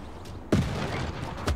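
Units in the video game Civilization VI firing on an enemy city produce one sharp, booming shot followed a second later by a second thud, both close and loud over a faint background.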